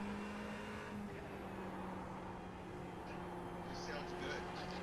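Race car engines from the iRacing simulator running a GT3 endurance race at Suzuka, a steady droning engine hum held under constant conversation throughout.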